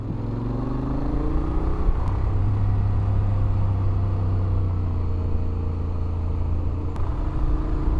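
A pickup truck climbs a steep hill on a mountain road in Thailand, its engine droning steadily nearby with slowly shifting pitch as it labors uphill, with no talking.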